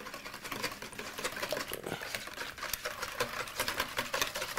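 Eggs for eggnog being beaten until frothy, a fast, steady whirring with rapid rattling that runs close and continuous for several seconds with no talking.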